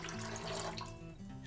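Half a cup of water is poured into sugar for a homemade holiday wine, a brief steady splash running close and alone under a faint musical background.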